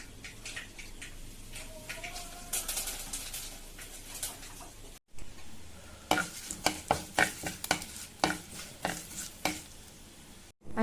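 Curry leaves dropped into hot oil with mustard seeds sizzle steadily, followed after a brief gap by sharp, close crackles and pops.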